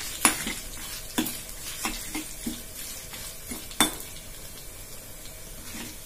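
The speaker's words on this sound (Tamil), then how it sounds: "இஞ்சி வதங்கிட்டே இருக்கு." Ginger sautéing in a pan for puli inji, a low background sizzle broken by sharp metal spatula clinks and scrapes against the pan every second or so.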